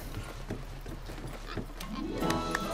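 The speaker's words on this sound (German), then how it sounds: "Guck mal, ein Schweinchen." Small pig creature from Monster Hunter World grunting and squealing over steady in-game ambience, a few short calls near the end, moderately close but fairly quiet.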